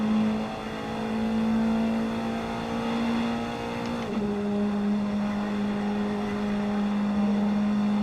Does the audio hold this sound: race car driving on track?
yes